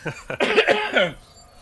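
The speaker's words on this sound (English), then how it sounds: "And I also have a cough." A person coughs several times in a quick burst, close and fairly loud, followed by a brief quiet tail.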